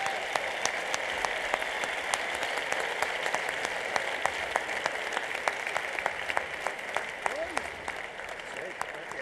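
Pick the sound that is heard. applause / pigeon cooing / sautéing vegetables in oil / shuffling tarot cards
applause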